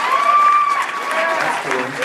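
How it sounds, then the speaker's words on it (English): Comedy club audience in Dallas applauding an army paratrooper during stand-up crowd work, steady clapping throughout with voices and whoops mixed in. "Give this man a round of applause."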